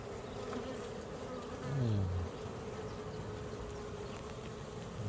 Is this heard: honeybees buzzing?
yes